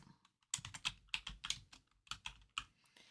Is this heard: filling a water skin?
no